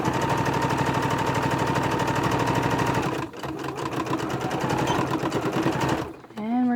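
A sewing machine stitches a fabric face mask along bias tape, a steady rapid mechanical whir with a fast even needle rhythm close by, slowing and pausing briefly near the end before a short voice breaks in.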